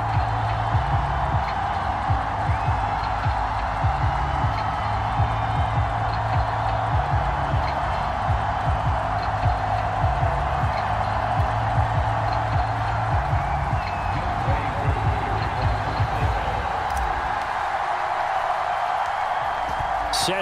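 A sellout stadium crowd in an EA Sports Madden football game, Falcons against Eagles, roars in a steady, dense wall of cheering that holds throughout without a break.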